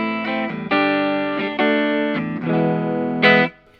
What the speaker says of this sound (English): I've got it on a plate reverb.